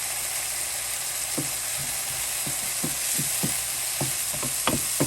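Peppers cook in a small amount of beef broth in a pan on the stove, with a constant bubbling sizzle and a string of close, knocking scrapes from stirring.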